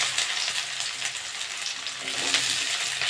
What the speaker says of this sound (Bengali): তেলটা গরম হয়ে গেছে, আমি এবার পেঁয়াজ দিয়ে দেবো